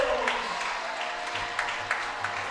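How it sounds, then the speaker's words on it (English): Homecoming high school football crowd at Michigan City applauding and cheering as the Wolves take the field, a steady wash of clapping heard from a distance beneath a play-by-play announcer talking. "the homecoming crowd on their feet to celebrate their team"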